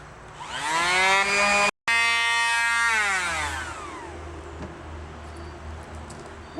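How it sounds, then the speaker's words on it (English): Power sander working the rough edges of a cut plywood shape for a plaster character, a loud motor that rises and sweeps in pitch, cuts out briefly, then winds down and fades. "I take the soft sander and I sand the rough edges"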